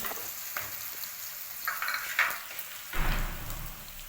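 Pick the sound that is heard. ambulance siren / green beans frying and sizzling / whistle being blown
green beans frying and sizzling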